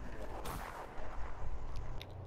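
A single gunshot in an online 2v2 video game match, a sharp burst followed by a rumbling tail over background game noise.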